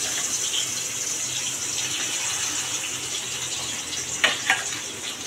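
Tangra fish frying in hot oil in a home kitchen, a steady hiss and sizzle across the whole stretch with a couple of sharper pops near the end and no talk.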